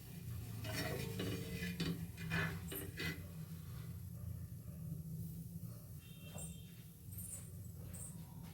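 An iron tawa scrubbed over a stove makes a continuous close scraping and rubbing with faint hiss and light metallic clinks, no voices.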